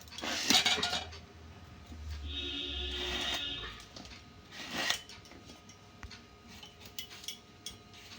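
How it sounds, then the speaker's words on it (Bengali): A knife cuts a bottle gourd into small pieces in a home kitchen, giving scattered cuts, scrapes and light clatter at close range with no talking. "লাউটা আমি টুকু টুকু কেটে নেবো"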